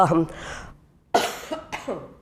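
A single cough breaks off a man's speech, followed by a short throat-clearing burst before talk resumes.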